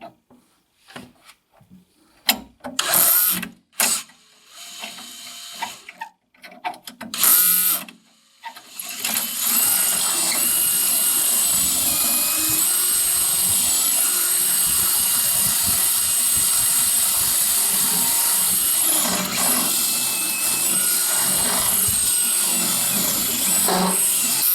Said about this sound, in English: So we're now going to drill away the old rivet and remove the remainder of the spring.